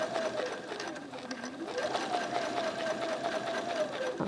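Sewing machine stitching lines on a quilt during controlled quilting, a steady fast mechanical whir with a rising and falling motor pitch, close and continuous with no talk.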